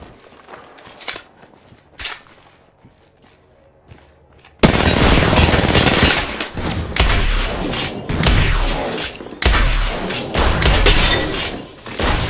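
Gunfire from Wraith gameplay in a shooter video game: quiet scattered shots at first, then a sudden loud, sustained barrage of rapid automatic fire with heavy thuds and shattering impacts.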